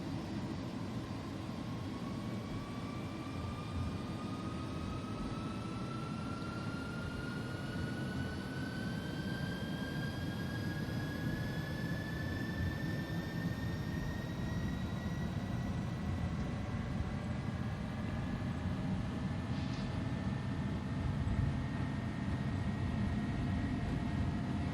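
An Airbus A300-600 cargo jet in the X-Plane 11 simulator rolls for takeoff at Dublin. A loud, constant engine roar carries rising whining tones as the engines spool up and speed builds, with no talking.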